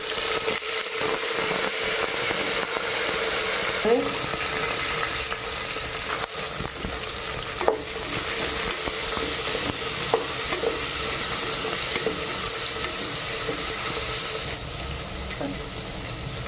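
Mustard seeds, urad dal, cumin and dried and green chillies frying in hot oil give a steady close sizzle with light crackle and some stirring throughout, no talk over it.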